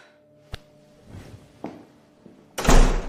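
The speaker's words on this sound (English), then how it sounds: "I slammed the door shut on him" A door slams shut with one loud, close, heavy bang near the end, after a few softer knocks and thumps in an otherwise quiet room.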